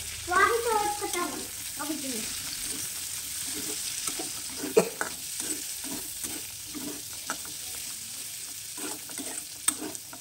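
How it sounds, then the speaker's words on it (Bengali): Chopped carrot, onion, green chilli and peas fry and get stirred in a pan for leftover-rice fried rice, a steady sizzle under scraping stir strokes, with a brief voice near the start. "এবার দিয়ে দেবো গাজর কুচি, আর দেবো পেঁয়াজ কুচি।"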